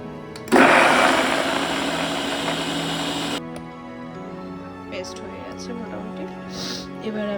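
A kitchen blender grinds green peas into a paste, a loud steady whir that runs for about three seconds and then stops abruptly, leaving quiet room sound behind.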